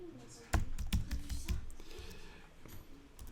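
Several sharp keystrokes on a computer keyboard while entering text in design software, a quick cluster of clicks in the first half followed by a quieter stretch, close and fairly soft over room tone.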